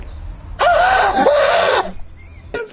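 A single loud chicken squawk in Minecraft as a chicken spawns from a thrown egg, a clear squawk of about a second followed by a brief short cluck, with no talk.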